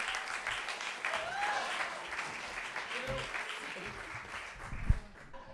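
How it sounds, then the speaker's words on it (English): Comedy club audience claps and cheers for a comedian, a moderate burst of applause that tapers off with a few scattered voices. "Give it up for Michelle Murphy."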